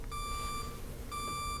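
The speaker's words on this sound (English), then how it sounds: "With that annoying beep" Steady electronic beeping from a computer, a high-pitched tone sounding in two long stretches with a short gap between, clear and alone over a low background hum.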